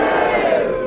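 A studio audience on a radio panel game boos together on cue, a sustained, loud, unified crowd groan filling the room with no voices speaking over it.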